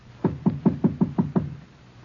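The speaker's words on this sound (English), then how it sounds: "Knock." Seven evenly spaced knocks on a wooden door, close and solid, as a sound effect in a 1950 NBC radio drama broadcast, each rap crisp and alone with no voices.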